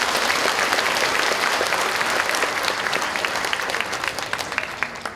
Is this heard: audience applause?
yes